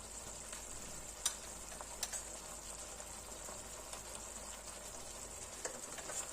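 Chilli chicken sizzles steadily in a pan with chilli powder and spices, a constant frying hiss broken by occasional scraping clicks of a spoon stirring, close and moderately quiet with no talking.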